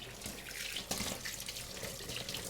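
Steady broadband rush of water running from a faucet into a sink while wet hands are rinsed, continuous and fairly close with small splashy fluctuations throughout.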